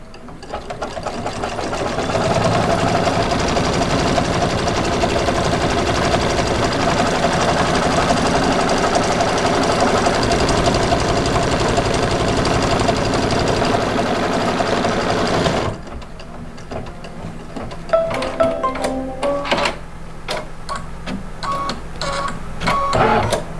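An embroidery machine stitches an applique outline on a Halloween placemat moon block, a fast, steady mechanical chatter for about fifteen seconds, then it stops and gives way to quieter clicks and handling noises.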